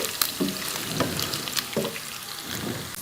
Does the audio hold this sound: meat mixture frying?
yes